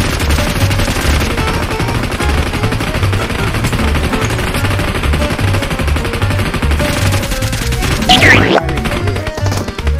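Rapid automatic gunfire in PUBG Mobile, loud and close, a dense continuous rattle of shots with a crash near the end and no talking.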